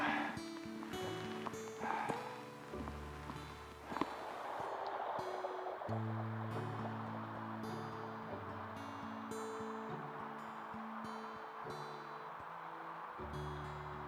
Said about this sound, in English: I hope you can hear me above the sound of the water here